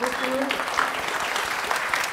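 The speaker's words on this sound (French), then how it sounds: "Encore une fois, je vous invite à l'applaudir." Audience applause at a panel event on AI and access to law, a dense, even wash of many hands clapping, moderately distant, with a voice briefly heard near the start.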